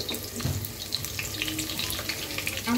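Chopped onions and garam masala fry in soybean oil, giving a steady, close sizzle with small crackles and pops throughout, with no talking.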